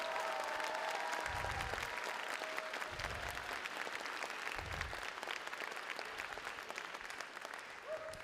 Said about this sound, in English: If we could give an early round of applause for the kids holding back in the wings.